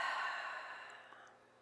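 One slow, deep exhale during a foam-roll psoas release, a close, soft airy breath that fades away over about a second and a half.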